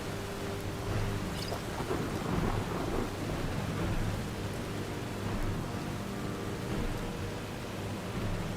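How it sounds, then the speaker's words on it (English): Continuous rain hisses with low rolling thunder rumbling through a thunderstorm in the video game Skyrim, steady and enveloping, with no voices. "The thunderstorm is beginning to let up."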